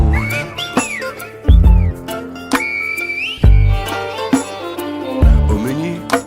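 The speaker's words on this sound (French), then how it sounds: "un guanché siffle pour s'inviter" A Canarian Guanche man whistling in the whistled language of the islands, sharp gliding whistled phrases over music with a pulsing low beat, separated by brief pauses.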